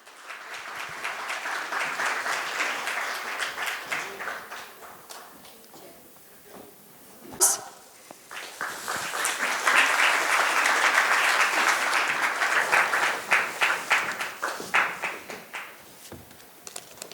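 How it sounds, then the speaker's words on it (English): A conference audience gives a sustained round of applause, dense clapping that swells, briefly dips, then rises again and tapers off with no talking over it. "Give us a round of applause, please"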